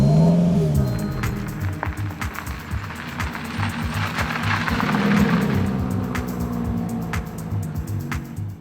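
A Lotus Elise Cup 250 sports car drives along with a steady low engine drone, moderately loud and close, the pitch shifting gently as it moves, no voices over it.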